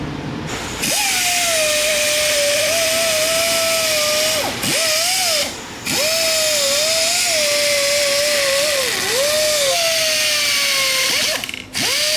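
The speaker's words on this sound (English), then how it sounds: "I'm just going to get the Dremel and clean up these holes" A Dremel rotary tool cleans up holes in pieces for a land speed motorcycle frame with a loud, close, high-pitched whine. The pitch wavers as the bit loads and eases, and it stops briefly twice before spinning up again.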